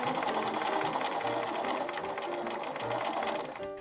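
A sewing machine runs continuously and close up, a steady whirring hum of rapid stitches, as a sleeve is sewn into the underarm of a garment.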